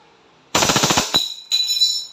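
WE Hi-Capa 5.1 Type K airsoft pistol firing full-auto in two close, loud rapid bursts, a rattling string of sharp gas-blowback shots followed by a shorter second burst, with no talking.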